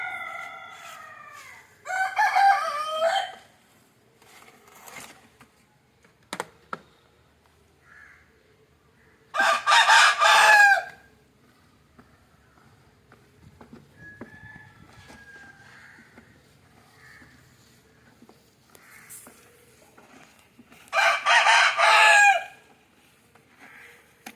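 Native country roosters crow loudly three times at spaced intervals, with occasional soft clucks and quiet farmyard noises in between.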